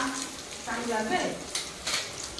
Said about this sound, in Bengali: এ তো ডিম ভাজা হয়ে গেল